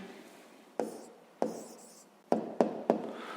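Handwritten answer being written down during a fifth-grade math exercise: a handful of sharp, close pen-on-paper strokes and taps in short bursts, separated by brief pauses, with a quiet steady room background.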